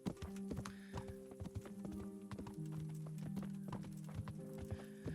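Horse hooves clip-clop steadily in Kingdom Come: Deliverance, a close, even rhythm of hoof falls over a background of game music.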